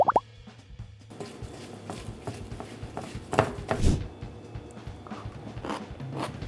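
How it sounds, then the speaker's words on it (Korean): Crisp bites and chewing of smashed cucumber tossed with pollock roe, red pepper flakes, sugar, minced garlic and sesame oil, a few close, moderately loud crunches spread across a short stretch with no talking. "오이의 그 아삭아삭함 들리시죠?"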